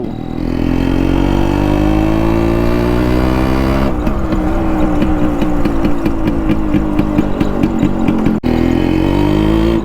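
A Yamaha RX100 motorcycle engine running close by, settling from idle into a rapid, throbbing two-stroke putter with a brief dip near the end.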